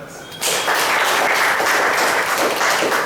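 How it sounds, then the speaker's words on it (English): Toastmasters meeting audience breaking into a big round of applause, steady dense clapping that starts abruptly after a short quiet moment and holds at full volume throughout, with no speech over it. "So a big round of applause"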